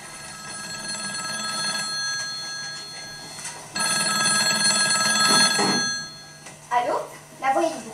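An old-fashioned telephone bell rings in a French stage comedy, a loud continuous electric ring in two long bursts, after which a voice speaks briefly.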